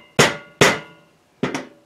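Close rubber mallet blows drive a VW window seal into a pop-out frame. Two solid thuds land in quick succession, then after a pause a quick double hit.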